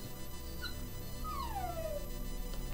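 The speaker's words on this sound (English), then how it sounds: "There's my puppy Minnie again, just screaming her little head off." Minnie, a puppy, lets out a high, wavering whine that slides downward into a drawn-out howl, heard at moderate level over a steady background hum with no talking.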